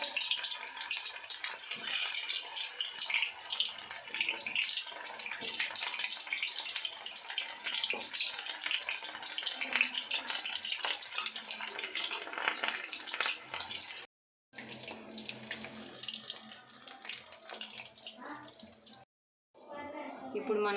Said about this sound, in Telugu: ఇప్పుడు మనము కలుపుకున్న కాలీఫ్లవర్ని ఒక్కొక్కటి వేసుకొని డీప్ ఫ్రై చేసుకుందాం.